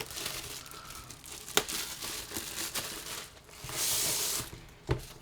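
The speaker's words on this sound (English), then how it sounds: "Let's go ahead and tear it open." Plastic wrap being torn open from around a 22-inch portable monitor: close, continuous crinkling and rustling with sharp tearing bursts and a longer rip near the end, no talk.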